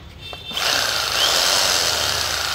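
A German-made 100V 900W electric saw with a 160 blade, fitted with dual carbon brushes, spins up after a brief quiet start and then runs at a loud, steady whine with no talking.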